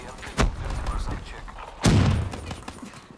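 Gunfire in the video game Black Ops 3 on Xbox One: two loud, sharp bursts about a second and a half apart, the second heavier and thumping, over a steady background of game noise.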